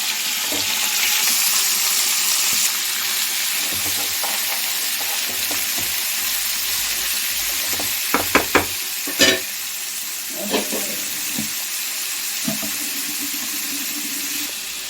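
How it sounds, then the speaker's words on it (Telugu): Shredded cabbage sizzling in a pan with fried curry leaves and green chillies, a steady bright hiss throughout with a few sharp clinks of a spoon stirring partway through. "ఇవన్నీ కరివేపాకు, పచ్చిమిరపకాయ వేగినాయి కదా, క్యాబేజ్ వేసారు"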